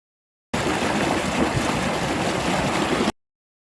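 Irrigation water flowing in a stream through rice fields in a Japanese village, a steady gurgling rush that holds even and close for a few seconds with no voices.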